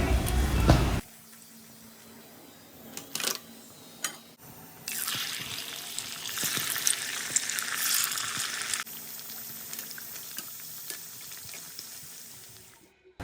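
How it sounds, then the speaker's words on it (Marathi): Sabudana fasting-snack shapes deep-frying in hot oil, a steady bright sizzle swelling loudly for a few seconds mid-clip, with faint clinks of utensils and water-like splashes around it. "मी सगळे शेप्स हे तळून घेत आहे"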